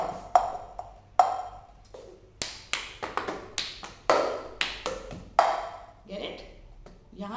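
A plastic cup is tapped, clapped and struck on the floor in a clapping rhythm, giving a string of sharp hollow knocks and pings at a steady beat, close and fairly quiet.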